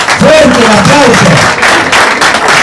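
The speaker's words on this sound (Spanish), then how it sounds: "Fuerte el aplauso." Loud crowd applause at an amateur football award ceremony as a champion team is honored, a steady wash of clapping mixed with cheering voices and an announcer talking over it.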